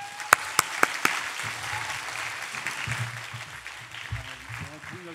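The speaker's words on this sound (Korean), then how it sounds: "격려의 박수 부탁드리겠습니다" A few sharp claps ring out, then a church congregation applauds softly while a voice murmurs underneath.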